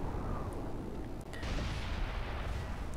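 105 mm artillery shells land in a video-game battle, a dense, continuous low rumble of booms and crackling impacts with a brief dip midway, heavy and sustained.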